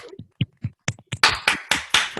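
A few people clap over a video call, starting with a handful of sparse separate claps that quickly thicken into louder, overlapping bursts.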